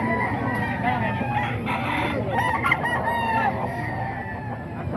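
Roosters crow repeatedly at the Bocaue chicken market in the Philippines, several overlapping calls and clucks rising over crowd murmur and people talking in the background.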